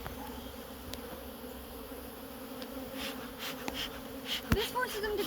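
Honey bees buzz steadily around an open hive while a frame is being shaken, a dense, continuous drone that swells slightly toward the end with a few brief knocks.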